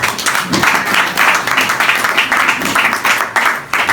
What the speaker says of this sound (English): Please clap for him now.